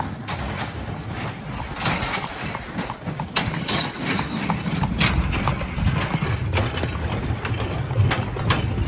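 Horses walk on a trail to natural pool cenotes, their hooves clip-clopping in an irregular, close beat over steady outdoor rumble and scuffing.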